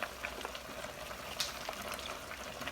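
Braised pork ribs with potatoes simmer in a pot as onions go in, a quiet, steady bubbling and faint sizzle with small splashes, close by and low in level.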